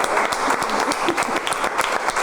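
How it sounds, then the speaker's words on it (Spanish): Audience applause at a music forum in the Canary Islands, steady dense clapping from a full room that holds evenly from start to finish, loud and close with no voices over it. "Un aplauso para"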